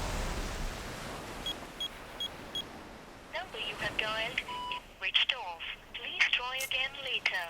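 A phone call that will not connect, with a series of short repeated beeps early on, followed by a warbling, chirping electronic tone pattern later. The sounds are fairly faint, over a noisy background.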